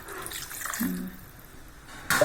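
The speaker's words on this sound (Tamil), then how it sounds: "அதனால் கொஞ்சமாக தண்ணி ஊற்றிக்கலாம்." A brief pour of water into a pot of Tamil vatha kuzhambu (tamarind curry), soft splashing and trickling close by, ending with a louder splash.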